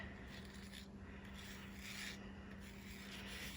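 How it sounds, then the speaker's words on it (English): Ink pad rubbed across a ribbon for a Halloween card, a soft, faint, continuous scratchy rubbing with gentle back-and-forth strokes over a quiet steady hum, no talking. "we're just going to take that and rub it right across this ribbon"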